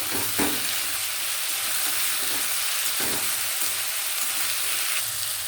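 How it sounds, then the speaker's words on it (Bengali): Ginger and chili paste sizzling in a frying pan while being stirred, a continuous hiss broken by occasional scrape and clunk of the spatula, close and fairly loud, no voices. "তো আদা বাটা আর লঙ্কা বাটাটা দিয়ে দিল। এবার নাড়াচাড়া করছে।"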